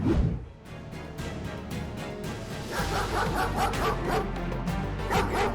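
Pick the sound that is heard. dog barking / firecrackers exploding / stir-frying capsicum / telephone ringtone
dog barking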